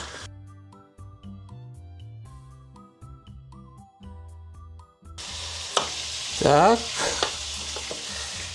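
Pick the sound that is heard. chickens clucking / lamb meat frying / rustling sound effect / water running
lamb meat frying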